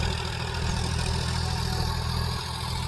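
A tractor engine idles in a field with a steady, close, low mechanical hum and no other sounds.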